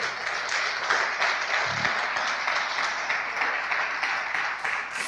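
A church congregation applauding together, a steady, moderately loud wash of many hands clapping from around the room, sustained throughout with no talking.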